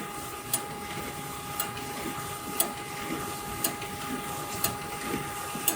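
A Formax ColorMax7 envelope printer runs steadily with a mechanical whir and a soft rhythmic tick repeating about once a second, with no voices.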